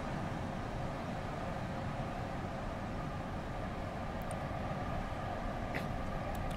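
A TGV Duplex high-speed train in the game Train Simulator 2016 gives a steady, loud broadband rumble and hiss of rolling motion, continuous throughout with faint high clicks near the end.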